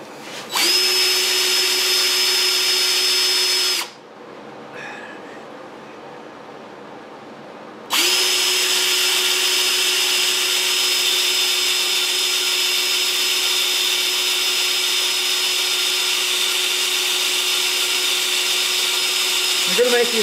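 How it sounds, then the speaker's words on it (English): A power drill bores a hole in a mini bike frame for a Predator 212 engine motor mount, a loud steady whine running about four seconds, pausing briefly, then resuming and holding through the rest. "That back hole I'm going to drill back there"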